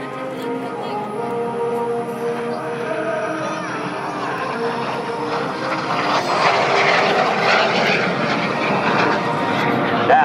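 A MiG-17 jet fighter roars past at an air base air show, its engine drone steady and rising slightly in intensity, heard from the crowd with some voices in the background.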